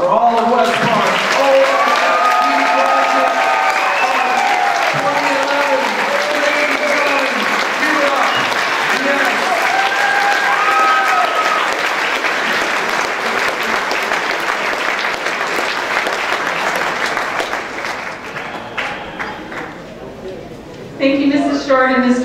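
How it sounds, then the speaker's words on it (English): Sustained, loud applause from a graduation ceremony audience fills most of the stretch, with voices and cheers mixed in, then tapers off near the end as a speaker begins. "Let's have a round of applause for all of West Park."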